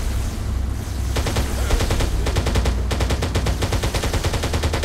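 Rapid bursts of automatic gunfire from a Halo mod video game battle, dense overlapping shots crackling loud and continuous through most of the stretch after a brief quieter start.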